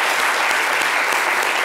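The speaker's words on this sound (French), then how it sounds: "Et ça, je pense que ça s'applaudit." Audience applause breaks out after a tribute at a community gathering, a dense, steady wash of many hands clapping, loud and continuous with no talk over it.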